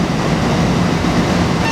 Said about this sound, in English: Now the train's leaving.